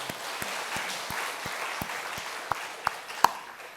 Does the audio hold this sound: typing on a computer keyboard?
no